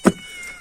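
A single short, close meow at the start, followed by quiet and a faint second cry just beginning at the end.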